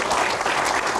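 An audience at a Q&A event bursts into applause, a full, dense wash of clapping that holds steady and loud for the whole second.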